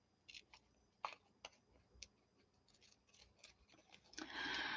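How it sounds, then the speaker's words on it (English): A large pair of scissors cuts through paper in a series of short, close snips and crisp clicks, ending in a longer rustling crunch of paper. "My paper and my scissors are getting tangled together here."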